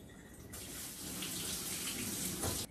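Running kitchen tap water rinsing drained soaked cashew nuts, a steady close hiss of water gushing for a couple of seconds before being shut off, with no talking.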